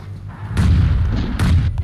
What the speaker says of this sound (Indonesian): Wih gila, siapa yang granat tuh?